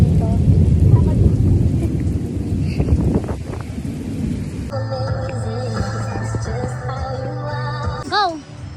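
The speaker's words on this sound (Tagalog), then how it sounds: "Umuulan po ngayon." Heavy rain pours down during a storm in Cabongaon, Pangasinan, with low rumbling gusts and thunder in the first half, then a steadier hiss of rainfall joined by a brief electronic chirping tone near the end.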